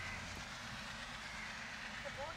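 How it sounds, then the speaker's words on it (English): A train passes in the morning near the Zuari River in Goa, heard as a faint, steady rumble in the distance. "Only the cross and the passing train interrupt the morning stillness."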